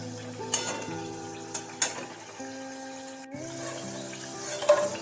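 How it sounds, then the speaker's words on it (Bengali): Potato pieces frying to a reddish brown in a pan while being stirred: a soft, continuous sizzle with a few sharp spatula clinks against the pan, heard up close and without talk. "এদিকে আমার আলু ভাজাও মোটামুটি হয়ে এসেছে।"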